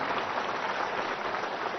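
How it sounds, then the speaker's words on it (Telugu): An audience at a public speech applauds in a steady, dense wash of clapping that stays even and continuous throughout, without any voices over it. "మీరందరూ కూడా గట్టిగా చప్పట్లు కొట్టి అభినందించాల్సిన అవసరం ఉంది"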